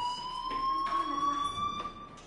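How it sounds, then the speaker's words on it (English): Fire alarm ringing with a steady high electronic tone and faint shifting background noise beneath, moderately quiet and continuous. "Hey, do you hear that fire alarm?"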